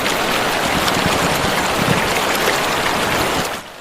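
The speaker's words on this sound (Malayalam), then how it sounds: "മഴ." Rain falls in a steady, close hiss with a watery, trickling texture, continuous and fairly loud with no voices, then drops off abruptly near the end.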